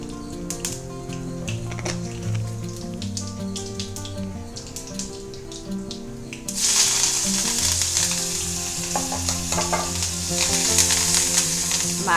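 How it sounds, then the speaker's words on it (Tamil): Mustard seeds, urad dal, curry leaves and green chilli crackle and sizzle in hot oil in a home kitchen, a steady loud frying hiss that grows brighter partway through, with faint clinks and no talking. "கொஞ்சம் கடுகு, கடுகு ஏற்கனவே வெடிச்சுட்டு இருக்கு"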